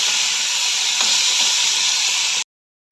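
Bitter gourd and potato pieces frying in hot oil in a pan with salt and turmeric, giving a loud, steady sizzling hiss that cuts out briefly near the end before resuming.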